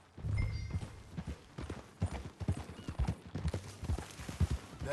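Horse hooves clip-clop steadily at a riding pace in Red Dead Redemption 2, close and fairly loud over low rumbling ambience, with no speech.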